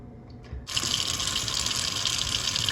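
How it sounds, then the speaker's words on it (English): Tap water starting abruptly and running through a sink stopper's strainer basket, a steady close hiss and splash after a few faint knocks, continuing evenly to the end. "The water runs through it when it's like this"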